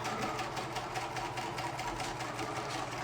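Sewing machine stitching a straight quarter-inch seam in face mask fabric, a steady close mechanical whir with rapid even needle pulses throughout and no talk.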